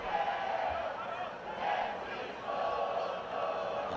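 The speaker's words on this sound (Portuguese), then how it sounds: "Só na garganta aí a torcida do Atlético cantando" Atlético football crowd singing a cappella in the stands during the Troféu Inconfidência 2024 final against Pouso Alegre, a distant chanting mass of voices swelling in waves, with a commentator speaking over it.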